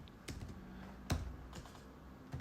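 Computer keyboard typing in short, uneven bursts of clicks, fairly quiet and close, with brief pauses between keystrokes and no talking.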